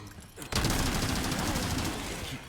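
Rapid gunfire in the Resident Evil 4 remake breaks out suddenly and continues as a dense, loud burst of shots for about two seconds before easing.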